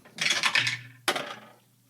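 Dice rolled for perception checks during a tabletop game session, clattering onto a hard surface in two quick bursts of rattling tumbles close by, with no voices over them.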